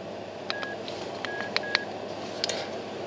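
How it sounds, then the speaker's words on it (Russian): Keypad tones from a Samsung S005 copy phone being switched off: several short electronic beeps in irregular clusters, some close together, over a steady background hiss, with no speech. "Сейчас мы данный телефон выключим."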